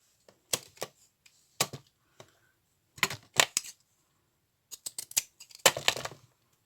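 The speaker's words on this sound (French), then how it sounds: "on va juste couper un petit bout de toile de jute" Scissors snip a small piece of burlap in short, sharp bursts of crisp cuts, grouped in quick clusters with quiet pauses between them, close up.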